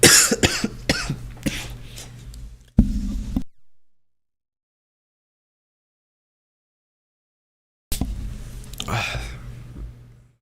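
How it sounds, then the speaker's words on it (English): A sudden harsh COVID cough bursts out close to the mic after a stretch of talking, followed by a pause of near silence before speech picks up again. "COVID cough came out of nowhere."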